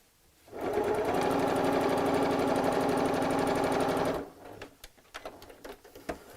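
A domestic sewing machine runs in one continuous burst of fast, even stitching along the raw edges of a bolster cushion, then stops, followed by light handling clicks and fabric rustle.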